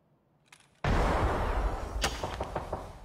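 Grenade explosion in a first-person shooter game: a faint click, then a sudden loud booming blast that rumbles and rings out with scattered crackling debris, heard close with no talk.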